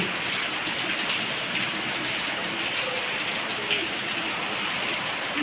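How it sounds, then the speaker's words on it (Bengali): Dense, steady downpour of heavy rain hissing on surfaces, loud and unbroken from start to finish. "খুব ভালো বৃষ্টি হচ্ছে"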